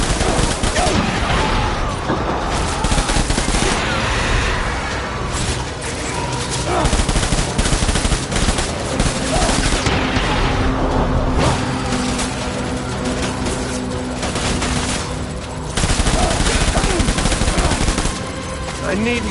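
Sustained, loud machine gun fire rattles on in dense rapid bursts with almost no pause, mixed with background battle noise and occasional voices.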